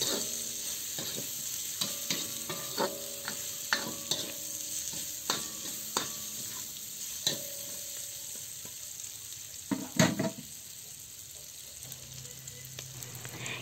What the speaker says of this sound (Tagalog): Ilagay na din natin ang hiniwang bawang.